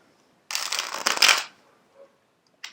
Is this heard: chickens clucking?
no